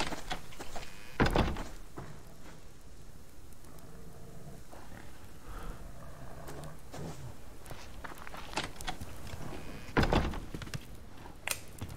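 Doors closing in the survival game Subsistence, a couple of heavy thuds several seconds apart over quiet ambient rustling and footsteps, with no talking.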